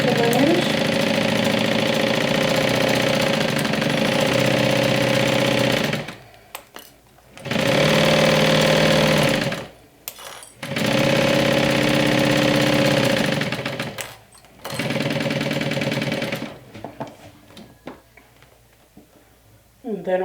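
Sewing machine stitching quilt fabric for a Swoon Harriet bag with red bobbin thread, a loud close mechanical whir running in long bursts, separated by brief pauses.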